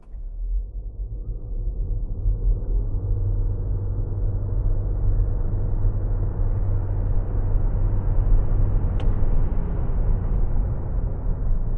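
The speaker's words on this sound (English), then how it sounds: "Now, when I completely stop, the engine is still running" Range-extender engine of a 2025 Leapmotor C10 REEV (215 HP) keeps running while the SUV sits stopped, a steady low droning hum heard from inside the cabin, even and unbroken throughout.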